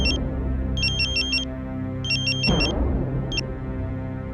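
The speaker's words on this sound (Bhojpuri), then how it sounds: "फोन बज रहला बाकी उठाना रहल है।" A phone rings in bursts of rapid electronic trills, three groups with pauses between, over a low rumbling background, with a brief clipped trill at the end.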